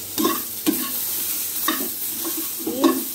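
Food fries in a pan with spices such as red chili powder while being stirred: a steady sizzle runs underneath and a spoon scrapes in short, irregular strokes, close and fairly loud.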